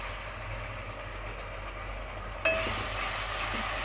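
Garlic ginger paste dropped onto lightly golden onions in a pan for daal mash bursts into a sudden sizzle partway through, over a low, constant background rumble.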